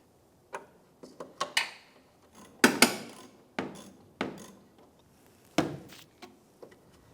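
A socket wrench loosening a 10mm nut behind the left fog light of a 2005-2007 Ford Five Hundred, giving a series of close, sharp ratcheting clicks in irregular bursts, with no voices.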